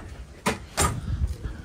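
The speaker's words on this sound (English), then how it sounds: "Close up the door, because we've got fire going." Door of a pizza truck at a market being pulled shut, giving two quick solid thuds about a third of a second apart, close by, with quieter handling noise after.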